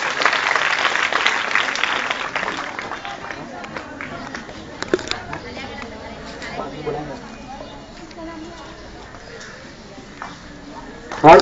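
Audience clapping at a school Teachers' Day event in an Urdu high school, a dense patter of many hands that swells at the start and then thins into scattered claps. Chatter and voices run underneath throughout.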